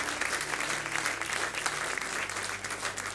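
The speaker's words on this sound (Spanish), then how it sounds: "Denle un aplauso a él." Congregation applause during a Spanish-language church service, a steady wash of clapping with a low hum underneath and little talk.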